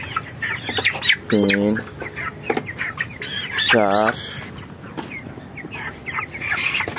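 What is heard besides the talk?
chickens clucking while being handled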